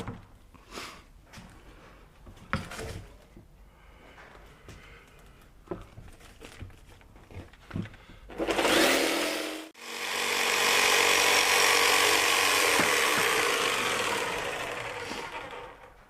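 Jigsaw cutting a vinyl-covered panel laid with protective tape on a sailboat refit, scattered handling knocks and taps first, then a loud close buzzing saw run starting around midway and continuing steadily to the end.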